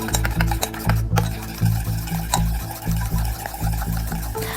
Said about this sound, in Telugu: ఒక స్పూన్ అండి కర్డ్, ఒక స్పూన్ వేసానండి నేను. ఇది కూడా బాగా కలుపుకోవాలి.